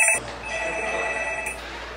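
A telephone bell rings continuously, a bright trilling tone close by, with no voices over it.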